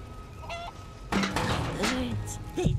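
Chickens clucking in Final Fantasy VII Rebirth, short honking clucks that arrive in a quick cluster, with a voice talking alongside them.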